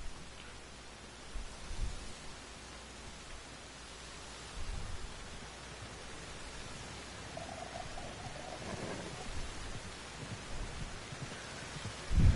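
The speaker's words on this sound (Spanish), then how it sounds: "está soltando la lluvia en el juego" Steady rain falls in the open world of Red Dead Redemption 2, a continuous hiss with a few low thumps and faint rumbles scattered through, no voices present.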